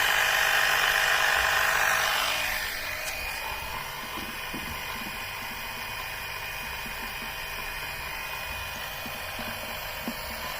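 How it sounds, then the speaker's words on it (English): An oil extractor suction pump draws engine oil up through a tube during a no-hoist oil change, giving a steady whine and hiss that starts loud and then settles into a continuous lower drone with faint ticking. "There's so much suction, it's sucking this tube in flat."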